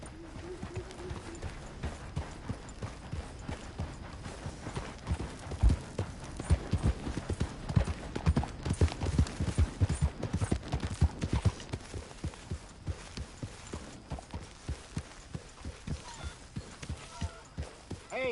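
Horse hooves clip-clop in a steady, brisk rhythm in the video game Red Dead Redemption 2, growing louder in the middle, with a voice speaking faintly at moments.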